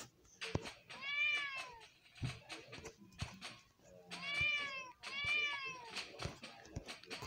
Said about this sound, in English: Okay, that's enough meowing.